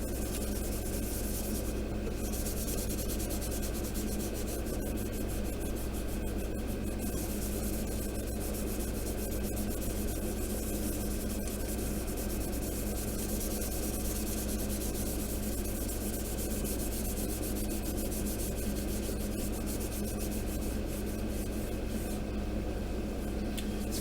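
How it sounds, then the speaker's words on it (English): A Scotch-Brite pad rubs along the seams of a plastic Pegasus Hobbies War of the Worlds war machine model kit, a steady soft scrubbing hiss that continues without pause. "Scotch-Brite's another good way to sand compound like shapes like that without, you know, morphing your shapes."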